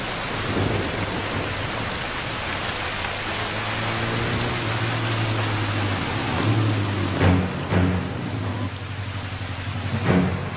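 Steady, dense rain pours down with deep thunder rumbling through it and a few louder cracks near the end; no voices.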